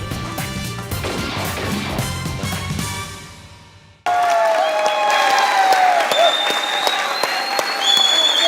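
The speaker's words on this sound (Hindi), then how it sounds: "तालियां बजाइएगा।" A studio audience at a comedy show applauds after music cuts off abruptly, the clapping loud and dense with some sharp whistle-like tones over it.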